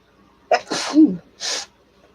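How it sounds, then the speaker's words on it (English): A person sneezes: a sharp intake and burst, followed by a second breathy exhale, loud and close in an otherwise quiet room. "I'm going to sneeze."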